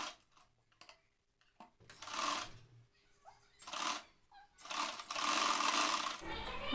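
Sewing machine stitching a sweetheart neckline on churidar fabric layered with lining, sounding in bursts of rapid mechanical whirring separated by short pauses, fairly close and alone.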